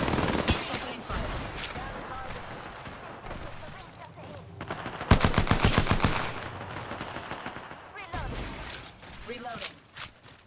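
Rapid video-game gunfire in a ranked console shooter, with bursts of automatic shots in the middle and again near the end over steady game noise and intermittent voice lines.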